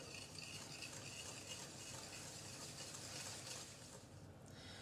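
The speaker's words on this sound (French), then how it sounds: "Je remue." Faint, continuous scraping and swishing of a utensil stirring melted butter with sugar and a little vanilla bean in a bowl for blueberry muffin batter, steady and quiet, no voices.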